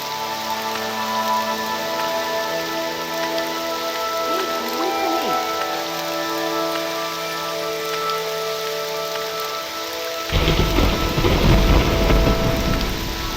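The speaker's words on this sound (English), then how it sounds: "They waterwalk in the pouring rain and the atrocious weather." Heavy rain pours steadily in Morrowind's stormy weather, then a deep rolling thunder crash breaks in near the end and keeps rumbling loudly over the downpour.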